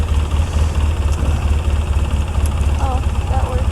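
Old carbureted Polaris ATV engine revving, a steady loud low rumble throughout with a voice talking over it.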